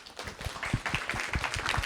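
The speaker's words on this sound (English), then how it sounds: "A round of applause for Jenée and Adrienne." Clapping from an audience at the close of an evening art talk, a steady patter of many hands that stays fairly even and moderately loud for the whole short stretch.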